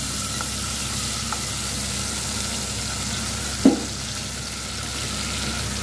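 Garlic sautéing in olive oil, a steady even sizzle close up with a single brief clink of a utensil midway and no talk.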